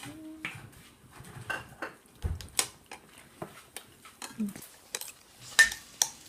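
Metal spoon clinks and scrapes against a dish while scooping pork from a spicy Thai glass noodle salad, several light, scattered taps and scrapes close by, with faint background noise and no clear talk.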